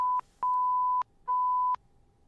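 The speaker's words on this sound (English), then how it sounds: "I can't believe the beep happened." Three bleep tones of about 1 kHz, the first short and the next two longer, each cutting in over quiet room sound with only faint murmurs between them, a censor beep laid over gamers' chatter while playing Ace Attorney Investigations.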